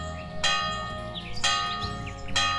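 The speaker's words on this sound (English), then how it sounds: "So the bell is playing" A church bell in a medieval RPG video game tolls three times at a steady, unhurried pace, each strike ringing bright and resonant with a long shimmering decay over a soft low background.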